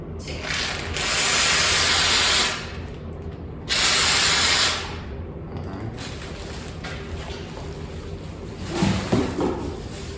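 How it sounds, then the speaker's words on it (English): Two loud bursts of hissing spray from a texture spray gun firing into a bag, each lasting about a second, with mechanical clicking and rattling in the quieter stretches between them. "I'm gonna spray it into this bag"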